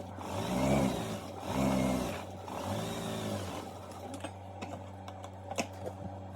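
A sewing machine stitches fabric for a Yoruba fila cap in a few rhythmic whirring bursts, followed by quieter clicks and handling sounds up close.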